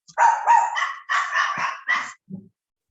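Several dogs barking indoors at a house, a quick run of sharp, loud barks in close bursts ending with a short low yip, with no talking.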